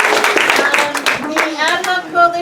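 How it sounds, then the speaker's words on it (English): Audience applause at a progressive fall potluck in Santa Cruz, California: a steady patter of clapping hands from a small crowd throughout, mixed with overlapping voices and cheering. "Round of applause,"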